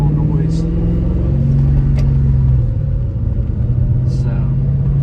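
A car with a modified aftermarket exhaust pulls out and drives off, its engine giving a steady, deep rumble close by that swells slightly as it moves away, with no talk over it.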